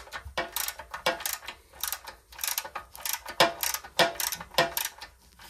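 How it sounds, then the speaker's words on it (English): A ratchet clicks while undoing bolts on an old Honda engine, in short irregular bursts of fairly quiet mechanical ticking with brief gaps between strokes. "So, I'm just going to see if I can undo these bolts."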